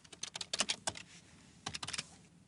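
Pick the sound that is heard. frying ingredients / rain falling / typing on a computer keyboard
typing on a computer keyboard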